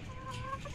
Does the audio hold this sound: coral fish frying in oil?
no